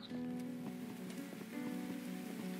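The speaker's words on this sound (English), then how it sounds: "Bloody rain." Rain patters steadily on a surface in the video game Burnhouse Lane while sustained tonal music hums underneath, with no voices.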